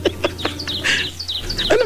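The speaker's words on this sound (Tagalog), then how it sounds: "Ano ba yan? May ibon." A bird chirps in repeated short, high calls over a low steady hum, fairly close and moderately loud, indoors during a phone-in radio show.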